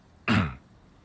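A character in the video game Disco Elysium lets out one short, close cough or throat clearing, loud and abrupt, then quiet ambience with no speech.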